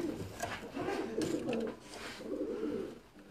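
Caged pigeons kept in pairs coo in soft, rolling, throaty phrases, two or three close calls in quick succession with a faint voice murmuring in the background.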